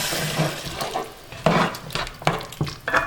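Jamaican brown stew liquid with a cup of added water heats in a pot, bubbling and sizzling up close with irregular bursts and a few clinks of a spoon.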